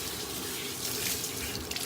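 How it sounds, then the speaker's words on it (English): Tap water runs steadily into a sink for rinsing, a soft continuous splashing stream with a few brief drips and gurgles near the end, close and fairly quiet, with no voices. "rinsing with pure water, or as pure as possible out of the tap"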